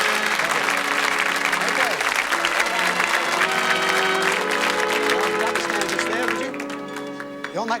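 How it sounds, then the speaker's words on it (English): Studio audience at a 1979 television game show, clapping loudly and steadily for several seconds before the applause thins out, with a host speaking over it. "Give them a round of applause, folks."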